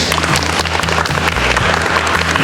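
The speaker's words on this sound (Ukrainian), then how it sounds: "Оплески." An audience claps after a live musical performance on a Ukrainian stage show, a dense, steady wash of many hands filling the space throughout, with a low hum running underneath and no voices.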